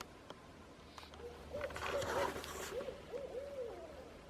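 A barred owl hoots somewhere in the distance near a river, a series of faint, mellow calls rising and falling over quiet background noise, with no talking.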